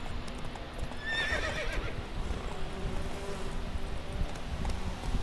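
Roach, Geralt's horse in The Witcher 3: Wild Hunt, lets out a loud whinny while hooves clip-clop at a gallop over a steady outdoor game ambience.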